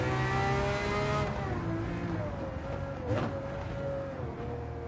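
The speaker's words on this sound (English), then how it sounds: "There's nothing like the whine of a" A race car in the Gran Turismo 7 video game gives off a high, tonal gearbox whine that glides and drops in pitch through shifts, heard alone with a brief rushing swell near the middle.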